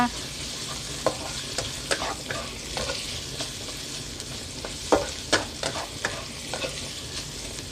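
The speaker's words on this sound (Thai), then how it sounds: "พริกกับกระเทียมหอมแล้วเอาหมูกรอบลงค่ะ" Crispy pork is tossed in a hot wok with chili and garlic over medium heat, a constant sizzle of frying broken by sharp scrapes and clacks of the spatula stirring at irregular intervals, close and alone.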